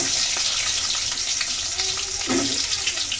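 Vegetables frying in hot oil for a Bengali vegetable dish, a continuous hissing, bubbling sizzle with small pops, close and steady with no talking.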